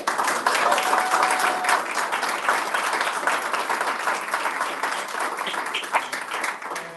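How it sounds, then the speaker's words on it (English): Crowd at a city council meeting applauding the mayor of Alexandria, a loud, dense, sustained round of clapping that holds steady for several seconds. "Please give him a round of applause"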